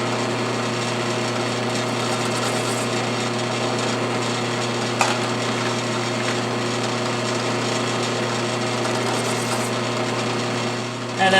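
A step drill bores through a Delrin plastic washer, giving a steady, dense grinding whir that runs unbroken for the whole stretch, with one sharp click about midway.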